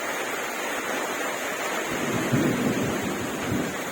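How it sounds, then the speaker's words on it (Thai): Heavy rain pours steadily with a broad, constant wash of noise, a young elephant playing in the downpour; faint thuds and splashes rise briefly midway, with no speech. "ฝนตกแบบนี้นะครับ"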